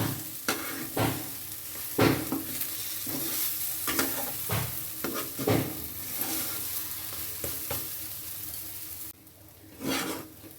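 Lentil filling for hing kachori stirred and fried in a pan, a steady close sizzle broken by repeated scraping strokes of a spoon about once a second, with no talking.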